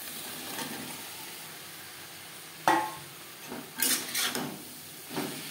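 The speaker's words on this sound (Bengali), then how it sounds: "পেঁয়াজ টমেটো ও মশলার সাথে আলু বেশ ভালো করে মিক্স করে দেব।" A spoon scrapes and clinks against a pan as small potatoes are stirred with onion, tomato and spices for a Bengali fish curry, in a few separate metallic knocks over a soft background hiss.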